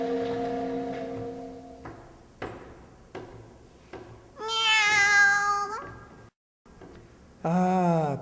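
A tabby cat meows twice, a long drawn-out cry followed by a shorter one, amid soft knocks and shuffling in a quiet indoor scene.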